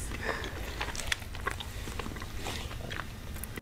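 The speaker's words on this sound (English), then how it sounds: "Ooh, the chewing." Someone bites and chews rainbow-colored cupcakes up close, with soft moist smacking and crunchy bites scattered irregularly over faint background noise.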